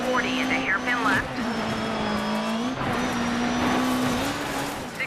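Dirt 3 rally car engine drones steadily and loudly with shifting pitch as it upshifts, while tires skid and squeal on loose surface in short bursts over the continuous game mix.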